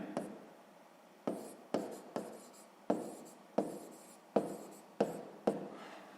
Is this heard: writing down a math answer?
yes